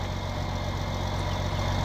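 A tractor engine idling in the video game Farming Simulator 17, a steady low rumbling drone with even pulsing, close and continuous with no talk.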